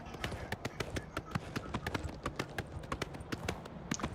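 Hooves of a stolen horse in the video game Oblivion, a quick, regular clip-clop of galloping steps, crisp and close, continuing evenly throughout.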